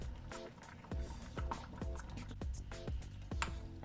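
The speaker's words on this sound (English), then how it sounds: "So now I'm going to add my potatoes in." Potato pieces drop one after another into a pot of Jamaican chicken soup, making a steady run of close, wet plops about every half second.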